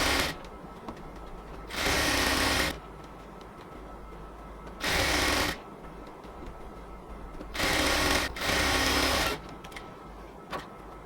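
A sewing machine stitches the elastic waistband of palazzo pants in three loud bursts of rapid whirring, separated by quiet pauses while the fabric is adjusted.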